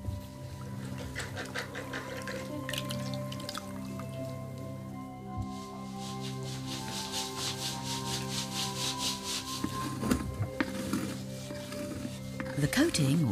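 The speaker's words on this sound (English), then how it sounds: "The coating, or slip, which is made of red clay from the beach, is burnished with a small stone." A small stone rubs steadily over a red beach-clay slip coating on a sun-dried pot in Rif pottery, giving a continuous close scraping and rubbing over a low background drone.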